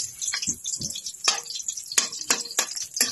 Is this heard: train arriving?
no